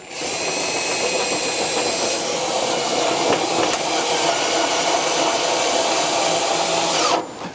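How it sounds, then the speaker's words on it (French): A power drill runs steadily for several seconds, loud and close, while drilling with a 3 mm bit and driving screws with a long T25 bit into an aluminium pergola kit, then cuts off abruptly. "Je perce à chaque fois avec le foret fourni de 3 mm de diamètre et je visse avec l'embout T25 spécial"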